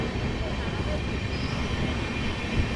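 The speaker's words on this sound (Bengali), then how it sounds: "ট্রেন আমাদের ছেড়ে বেরোচ্ছে উলুবেড়িয়া" A passenger train pulls out of Uluberia station on the Kolkata–Digha route, a steady dense rumble of wheels and carriages filling the whole stretch without letup.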